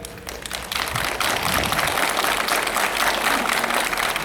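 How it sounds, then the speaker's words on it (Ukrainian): Crowd at a September 1 school ceremony giving loud applause for first-graders, starting moderately and swelling into a dense, sustained roar of clapping. "Вітаємо гучними оплесками наших первокласників"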